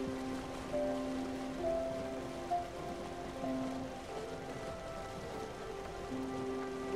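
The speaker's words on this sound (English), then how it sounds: "I'm shocked we're staying out of the rain." Steady rainfall patters across a surface in the video game Spiritfarer, a constant soft hiss with gentle musical tones drifting over it.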